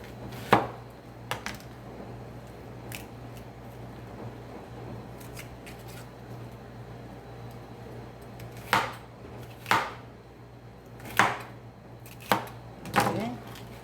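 A knife chopping an onion on a cutting board makes sharp, isolated thuds: a couple early, a long quiet stretch, then five spaced chops close by.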